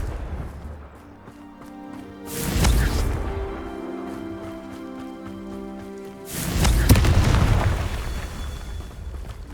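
Two loud, booming Confringo spell explosions from the video game Hogwarts Legacy, each a broad burst with a rumbling tail, separated by a few seconds of low ambient game music.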